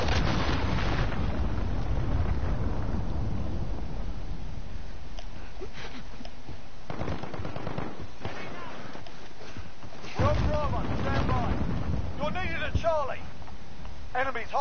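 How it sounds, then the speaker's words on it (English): In Call of Duty Modern Warfare multiplayer, a cruise missile strike lands as a loud rumbling blast up front, followed by gunfire and game voice callouts over continuous battle noise. "Enemy cruise missile incoming."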